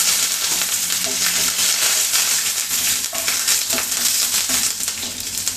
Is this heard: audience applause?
no